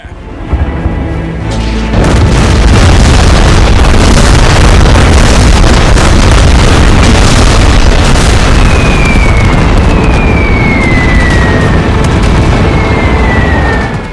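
Cartoon tank guns fire at a mortar position, setting off a loud, sustained roar of blasts and booms that fills the whole stretch, with whistling shells streaking overhead near the end.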